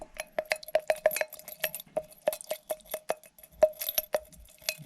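A small metal part from a Daiwa Tatula SV baitcasting fishing reel swished around in a container of cleaning solution, giving a quick series of light, close clinks and rattles against the container's sides.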